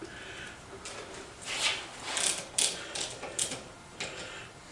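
On a disassembled Armstrong-Blum power hacksaw, a ratchet wrench breaks bolts loose: a series of quick metallic clicks and clatters comes in uneven bursts, close but fairly quiet against a low room hum, with no talking.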